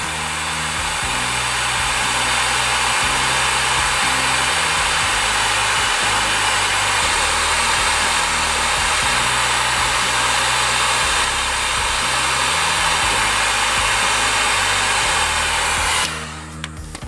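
A hot-air plastic welding gun heats a cracked plastic car bumper, a loud continuous blowing whine that holds steady and then cuts off near the end.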